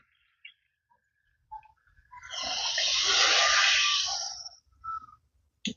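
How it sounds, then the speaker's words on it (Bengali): Water poured from a vessel into a pan of raw banana and egg curry, a steady broadband rush for about two seconds with faint clinks before and after. "এবার এখানে আমি জল দিয়ে দিচ্ছি"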